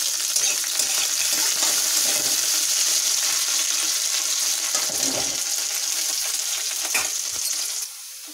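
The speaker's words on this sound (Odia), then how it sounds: "ଆଳୁ ଭାଜି ହେଇଗଲାଣି, ଶାଗ ପକେଇଦେବା, ଭଲ ଭାବରେ ଟିକେ ଭାଜି ଦେବା" Potatoes frying with onions in a pan, a loud close sizzle with scraping and rattling of stirring that drops off sharply near the end.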